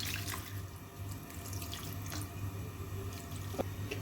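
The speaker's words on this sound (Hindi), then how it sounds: "अब इसमें मैं पानी ऐड करूंगी तकरीबन 2 गिलास, और फ्लेम को कर दूंगी मैं मीडियम।" Water is poured into spicy tawa keema cooking in a pan, a steady loud splashing stream with small drips, no voices.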